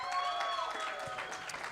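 A live crowd at a Green Bay Packers clubhouse event applauds steadily on a Monday night, a continuous wash of clapping with a few cheers mixed in, moderately distant and without pauses.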